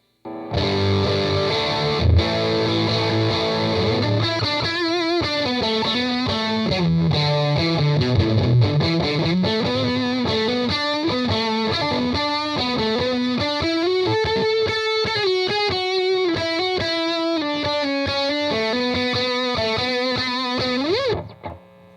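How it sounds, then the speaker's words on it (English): Heavily distorted electric guitar through an overdrive pedal with the drive cranked, giving a thick, buzzy fuzz tone playing a sustained melodic line, bending notes, loud and alone for about twenty seconds. "if I crank up the drive, you can almost get fuzz-like tones"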